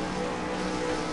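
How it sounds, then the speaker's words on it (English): Race car engines in a V8 Supercars racing game hold a steady, loud droning roar as revs climb on the starting grid at Twin Ring Motegi, with no talking. "We've got the revs rising now."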